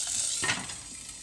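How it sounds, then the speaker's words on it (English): Onions and curry leaves sputter and sizzle in hot oil for poha, a steady close crackle that swells into a brief louder burst partway through, with no talking. "put in your onions, curry leaf. It is really going to sputter now"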